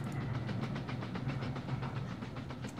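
A train in the railway-building game Mashinky rolling onto a viaduct, with a steady rumble and a regular clickety-clack rhythm of wheels over rail joints, continuous and fairly loud with no talk.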